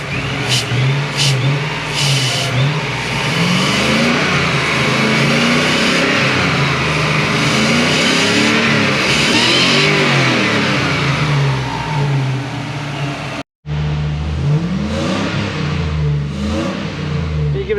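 Supercharged 1UZ V8 fitted in a Toyota Prado, run with an M90 supercharger and new wiring loom, revs repeatedly: loud rising and falling engine sweeps close by, a brief cut near the end, then more revving.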